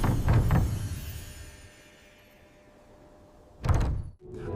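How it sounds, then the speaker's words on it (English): A few quick knocks sound on a giant castle door at the start, followed by quiet and then another sharp thudding burst near the end. "A little noise came from the giant castle door."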